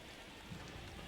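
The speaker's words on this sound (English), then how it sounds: "because if you can hear heavy rainfall in the background the whole time" Heavy rain beats steadily against a window, a dense, constant hiss with no pauses, at a low, even level throughout.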